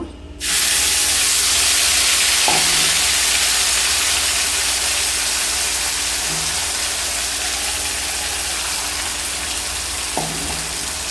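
Masala spice paste for a bottle gourd and fish head curry hits a hot pan and sizzles. The loud, steady frying hiss is continuous and close, with a few faint clinks underneath.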